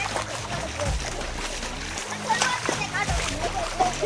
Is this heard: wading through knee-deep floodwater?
yes